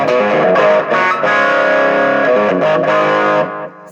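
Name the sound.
guitar through COOLMUSIC 50 watt amp with Clarksdale overdrive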